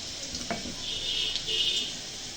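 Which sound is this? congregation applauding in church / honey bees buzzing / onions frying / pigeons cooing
onions frying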